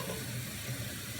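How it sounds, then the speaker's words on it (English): Cold water runs steadily from a kitchen tap in a home-brewing setup, a constant close, full rushing hiss with no pauses. "Turn the cold water on."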